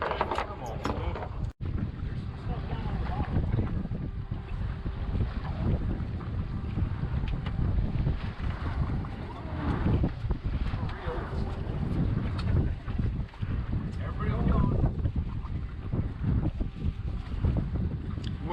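A boat pounds across choppy three-to-five-foot waves while heavy wind buffets the microphone, a constant loud rush with thumps and splashes throughout, and a voice is faintly present at times.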